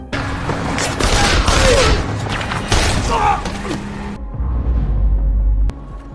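Gunfight between a man and cartel members in an action film, with loud bursts of gunfire and booming impacts over a dense score, then a deep rumbling boom near the end.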